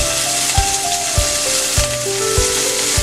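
Chopped shallots hit hot oil in a pan for a Kerala spinach thoran, giving a loud continuous sizzle with a few soft thuds of stirring or tapping at regular intervals.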